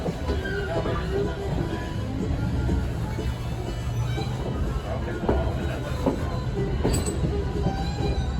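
A train hauled by steam locomotive B&M 1860 rolls by with a continuous low rumble, occasional wheel squeals and clicks, and faint voices in the background.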